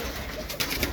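Young late-bred Birmingham roller pigeons out by the pen give a short, soft coo with a few brief flutters close by. Nobody speaks over it.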